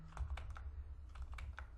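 Keystrokes on a computer keyboard as a login host command is typed into a network router console, a quick series of separate clicks in two short bursts, close and fairly quiet.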